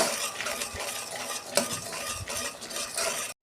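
Ginger-garlic spice masala with a little sugar and green chilli is stirred and sautéed in a pan for a pabda fish curry, giving a steady close sizzle with scraping spoon strokes and no talking.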